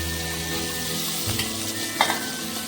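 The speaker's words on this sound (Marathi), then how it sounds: "आता आपण ही पलटून घेणार आहोत शिजवतो" Okra (bhindi) fries in masala on a flat tawa with a steady close sizzle, broken by soft scrapes and a brief clatter as it is turned over.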